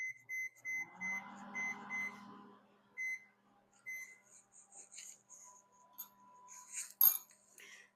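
Several short electronic beeps from microwave oven button presses, then a low steady hum of the microwave running, with a faint click and rattle near the end.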